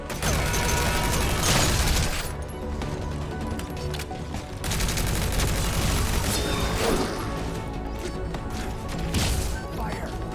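Gunfire and explosions in Metal Gear Solid V: The Phantom Pain, as a loud continuous barrage of booms and shots with swelling blasts that stays dense throughout.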